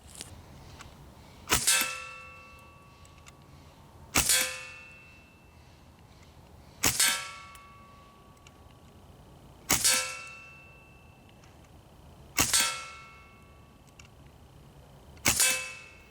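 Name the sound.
Sig MCX Gen 2 .177 PCP air rifle shot slowly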